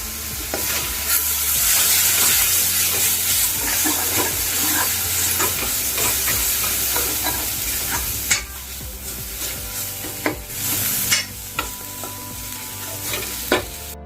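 Coriander powder fries in a pan as langar-style dal is made, a continuous close sizzle with spoon stirring and scraping clinks against the pan, no talk.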